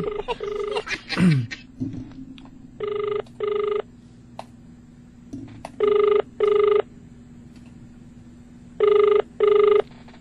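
A telephone rings during a call in pairs of electronic bursts, three double rings spaced evenly, with brief voices and noises at the start.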